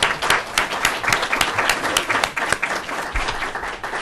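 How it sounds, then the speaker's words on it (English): A lecture-hall audience at an education panel applauds steadily for about four seconds, a dense wash of individual claps with sharp distinct hits scattered through it, fairly close and with no voices over it. "please join me in a round of applause"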